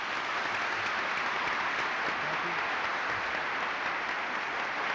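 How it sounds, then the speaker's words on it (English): A lecture audience gives Nancy Landon Kassebaum a steady, dense round of applause at a 1987 Landon Lecture, with many hands clapping loudly and evenly throughout and no clear talking. "Let's give her another real big hand."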